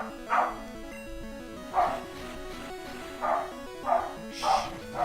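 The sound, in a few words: dog barking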